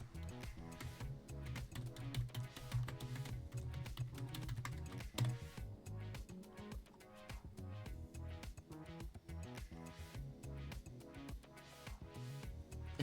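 Steady typing on a computer keyboard while an email address is entered to log in to an account, with a quick, continuous run of close, crisp key clicks and no voices.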